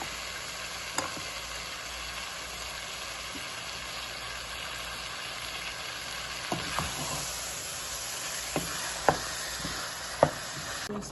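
Beef stew with potatoes and carrots simmering on a stove, a steady low sizzle under occasional soft spoon scrapes and knocks against the pot.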